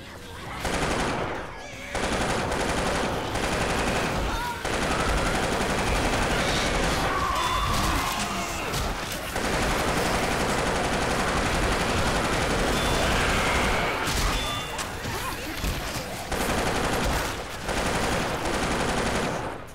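Sustained rifle and machine-gun fire in a video game, dense bursts rattling almost without pause and loud throughout, with brief gaps between volleys.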